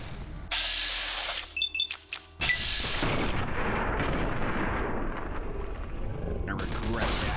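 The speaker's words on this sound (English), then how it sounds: "Someone's firing over here." Gunfire bursts and heavy blasts from combat in Fallout: New Vegas, loud and dense, with abrupt shifts between firing and a booming, rumbling wash of explosions.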